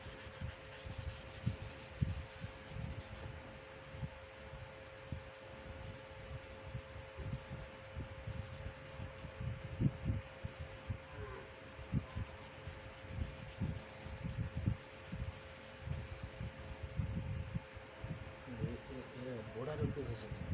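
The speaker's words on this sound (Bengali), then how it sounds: "চুলের সাইজটা পুরো ঘষে দিয়ে ব্রাশ দিয়ে ঘষে দেবে, তারপর ব্রাশ দিয়ে ঝেড়ে দেবে" A brush rubs over pencil shading on drawing paper in soft, irregular strokes, faint and close, repeating throughout while a person talks.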